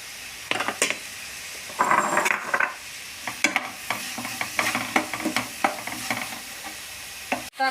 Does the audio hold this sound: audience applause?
no